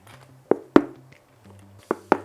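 Premium headphone case being tapped by hand: four sharp, hollow knocks in two pairs, close and clear over a quiet low hum.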